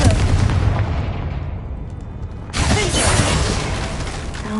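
A Confringo blasting spell explodes in the Hogwarts Legacy video game, a sudden loud burst at mid-clip over steady rumbling game noise, with crackling debris after.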